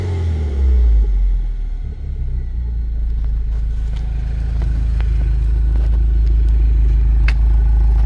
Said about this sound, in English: all it has is the John Cooper Works exhaust with the catless downpipe